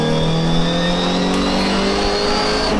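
An MGB race car engine at Silverstone holds a loud, steady drone up close while being shifted into second gear, with no pause in the sound.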